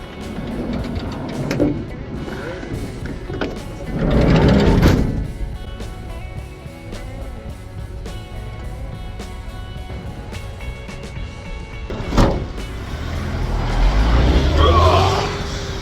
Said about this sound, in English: a collectivo arrived.